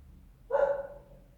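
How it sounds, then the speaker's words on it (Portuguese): A dog lets out a single short bark, fairly close and loud against an otherwise quiet low hum. "os cachorros também começam a latir"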